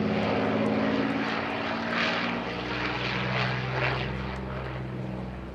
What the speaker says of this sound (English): The most numerous Soviet fighter at the start of the German invasion was the MiG-3, and what a treat to see one flying even now.